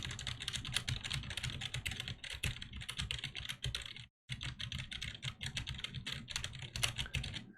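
Computer keyboard keys clatter in quick, irregular bursts of typing, captured through a Razer Seiren X microphone, crisp and close with one brief pause midway.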